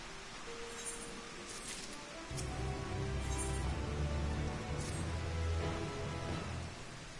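Steady rain falls in Final Fantasy XIV Endwalker, a broad, even hiss that thickens with a deeper rumbling layer partway through, continuous and fairly loud with no voices.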